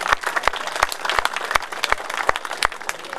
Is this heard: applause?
yes